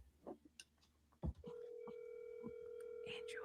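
A phone call rings out on the line, a steady electronic ringback tone sounding close over a faint background after a brief clatter.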